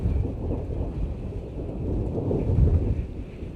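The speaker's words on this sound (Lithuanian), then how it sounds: "Kaip griaustinis graudėjo." Low, continuous rumbling of thunder during a rainstorm, heard outdoors with wind buffeting the microphone, a steady deep roar that swells slightly toward the end.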